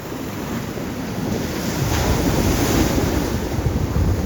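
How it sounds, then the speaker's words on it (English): Strong storm-driven sea waves crash continuously on the shore at Lefkada, Greece, with heavy wind buffeting the microphone; the roar is loud and close and builds slightly over the few seconds, with no voices. "We've arrived, but the waves are really strong."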